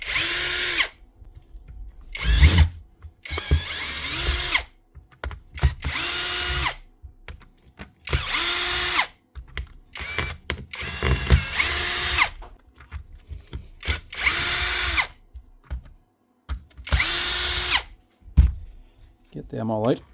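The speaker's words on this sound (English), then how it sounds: "Just unscrew them all" Bosch cordless jigsaw's housing screws backed out one after another with a powered driver and a T10 Torx bit, giving repeated short whirring bursts with brief pauses between them, loud and close, with a voice talking at times.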